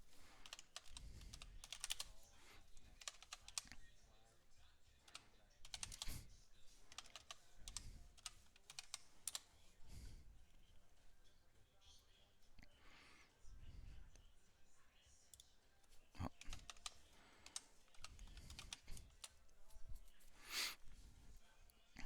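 Someone types on a computer keyboard in quick, irregular bursts of soft clicks over about twenty seconds. The keystrokes are quiet and close, and soft breathy sounds and low talk are mixed in.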